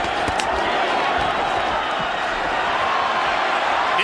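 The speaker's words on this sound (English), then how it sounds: "Crowd goes nuts." Arena crowd roaring at a Vitali Klitschko vs Kirk Johnson heavyweight boxing fight, a loud, steady wall of cheering and noise with a few sharp thuds, under a commentator's voice.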